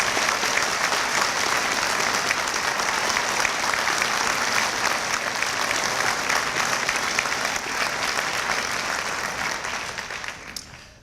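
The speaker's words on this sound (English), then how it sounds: "I ask you at this time to join me in applause to acknowledge their hard work" A large audience claps steadily at a 2012 dental school commencement, a dense, loud, sustained applause that continues evenly for about ten seconds before fading out.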